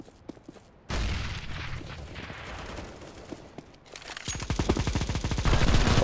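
Loud, sustained gunfire from a competitive CS:GO match, a sudden burst of rapid shots that eases briefly and then builds into a dense, rattling volley near the end.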